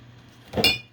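A single sharp clink of a glass water jar knocked by an arm, brief and bright with a short ringing tail, close by.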